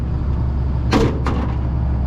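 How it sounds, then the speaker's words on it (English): A small door on a grain moisture tester clicks open with two short, sharp sounds about a third of a second apart, over a loud steady engine rumble in the background. "Open this little door"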